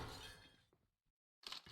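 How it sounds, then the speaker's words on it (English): Glass shattering in a video game: a dense crash of breaking shards, a brief gap of near silence, then another sharp burst of breakage. "So we hear some glass shatter."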